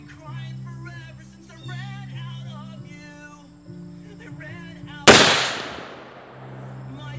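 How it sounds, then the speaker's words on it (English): A single sharp rifle shot, the cold bore shot from a stalkr rifle, cracks loudly and close after several seconds of speech, then rings off into a fading echo. "there's my cold bore shot"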